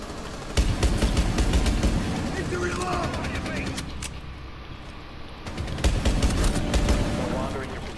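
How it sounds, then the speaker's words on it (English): Flashbang grenade detonations and gunfire in the tactical shooter Rainbow Six Siege, loud broadband bursts at the start and again near the end with a quieter stretch between, game audio heard beneath voice chat. "Throw flashbang in there."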